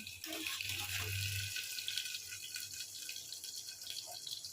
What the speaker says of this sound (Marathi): इथे चाळणी ठेवली म्हणजे त्यातलं पाणी सगळं निघून जाईल